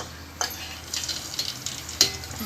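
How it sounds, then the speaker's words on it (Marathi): Green chillies dropped into masala in a cooking pan, a soft sizzle with scattered stirring clicks and scrapes, close and quiet. "नंतर त्याला हे 2-4 मिरची टाकून घेणार आहे।"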